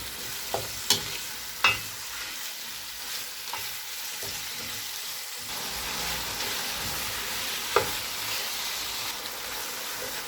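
Minced meat frying in ginger garlic paste in a pan, a steady broadband sizzle with a few sharp spoon scrapes and clacks as it is stirred, close and fairly loud, no voices.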